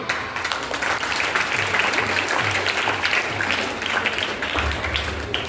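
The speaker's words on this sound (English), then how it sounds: "Please appreciate Soban by clapping." Audience applause for a student at a school elocution competition, a steady wash of many hands clapping close by for several seconds with a low hum beneath.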